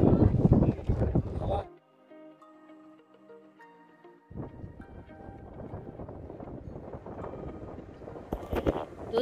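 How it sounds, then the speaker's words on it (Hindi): Gusty strong wind at Nandi Hills buffets the microphone in heavy, rumbling bursts, then drops away briefly before roaring back with other outdoor sounds mixed in. "बहुत तेज़ हवा चल रही है"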